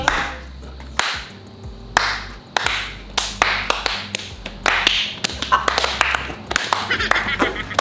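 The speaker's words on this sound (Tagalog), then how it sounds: "Yan po ang palakpak ng saya." A group claps in irregular bursts after a shared snack of merienda with tricycle drivers, the sharp claps sounding close and loud over low murmuring voices.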